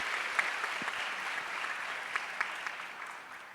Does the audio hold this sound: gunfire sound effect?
no